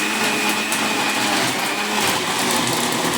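A mixie mixer grinder runs at home in a steady, loud, close whir that lasts the whole time without a break, and no voices come through.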